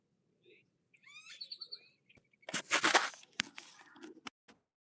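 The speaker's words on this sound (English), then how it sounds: "And we're catching as much wildlife, as many birds" Wild birds chirp and call outdoors in short bursts of song, with louder, brighter calls toward the middle and quieter scuffing sounds nearby.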